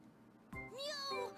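Jibanyan, the cat yo-kai from the Yo-kai Watch Blasters video game, gives a single drawn-out, rising and falling meow after a brief quiet lead-in, close and clear, with a short second cry at the end.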